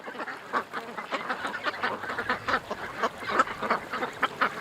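A large flock of ducks quacks and honks in a busy, overlapping chorus, constant and moderately near, with no voices.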